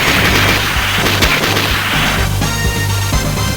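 Loud, dense game explosions and impacts crash over and over in a retro action game, with booming hits and sharp cracks layered over a pulsing soundtrack before cutting off abruptly.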